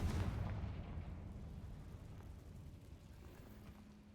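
A Confringo blast spell erupts in the video game Hogwarts Legacy: a single heavy explosive burst at the onset, then a long rumbling decay that fades without any voices.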